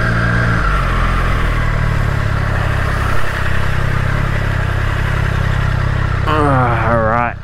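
Triumph Street Triple RS motorcycle lane splitting on the road, its engine droning continuously and loud beneath wind roar, with a voice speaking near the end.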